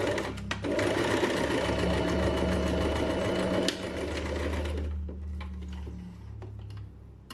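A sewing machine runs steadily, stitching a 1.5 cm seam allowance along fabric; the close, loud whir holds for about three and a half seconds, then changes to a quieter, uneven hum with scattered clicks before fading.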